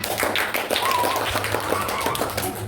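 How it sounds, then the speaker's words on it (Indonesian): Schoolchildren in a fourth-grade classroom clap for group 2 after its presentation, a dense patter of small hands, moderately loud with a low hum and faint voices underneath. "Tepuk tangan dulu buat kelompok 2."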